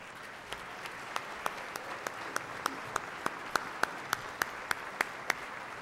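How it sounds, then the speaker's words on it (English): Scattered, sparse clapping from an audience during an award presentation at the Hot Shops 2005 film festival, a steady series of distinct, moderately distant hand claps without voices. "Let's hear it, ladies and gentlemen, for George Walker"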